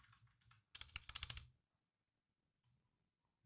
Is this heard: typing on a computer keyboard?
yes